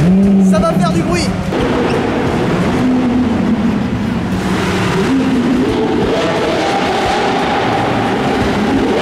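A Lamborghini engine roaring inside a hangar, a loud, continuous, reverberant roar with rising and falling revs throughout, close and dominant, with people talking over it.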